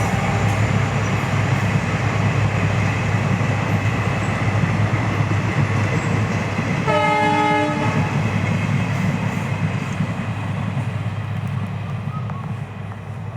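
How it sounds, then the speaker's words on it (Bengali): A train runs along a railway line in front of a house, a loud, steady rumble of wheels throughout, with a sustained horn blast sounding for about a second midway. "এই যে দেখো ট্রেনের সময় হয়ে গেছে, ট্রেনও চলে এসছে।"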